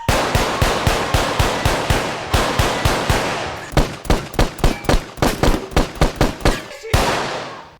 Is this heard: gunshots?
yes